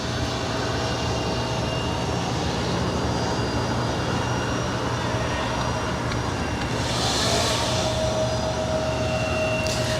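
An Alaska SkyWest Embraer E175LR jet airliner arriving at LAX gives off a constant engine roar with a thin whine, holding steady and swelling slightly near the end.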